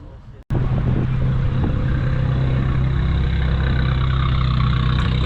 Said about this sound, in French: Ça fait toujours un son super sympa des Abarth.